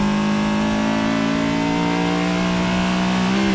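A race car engine in a sim-racing game holds a loud, steady droning tone while engine braking, the pitch shifting slightly downward near the end, close and continuous without speech.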